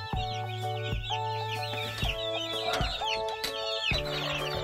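Hens in a crowded coop clucking rapidly and squabbling, with sharp squawks, scuffling and flapping bursts, close and busy throughout while chicks are also present.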